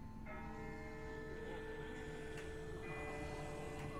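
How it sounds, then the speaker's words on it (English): A distant bell tolls far off in the video game The Walking Dead, its long ringing tones sustained faintly over a steady low ambient background with no speech. "That's not the same bell as before. This one's further off"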